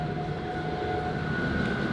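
Steady interior rumble of a sleeper train running between Shanghai and Guilin, with a continuous low drone and faint tonal hum, even and unbroken throughout.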